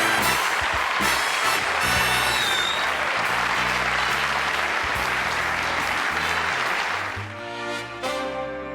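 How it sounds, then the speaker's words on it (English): A television talk-show studio audience applauds steadily for several seconds, a dense wash of clapping that thins out near the end, with some instrumental band music coming through underneath. "I'm humbled by that applause"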